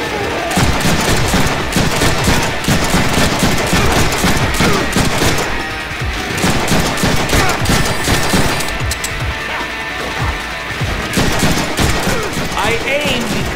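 Gunfire in a Deadpool video game runs almost nonstop: loud, dense bursts of rapid shots with a brief lull midway.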